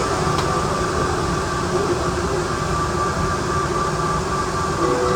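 An Atlanta airport Plane Train people mover pulls away on its automated track, a steady close rumble with sustained electric motor tones and a whine that holds throughout.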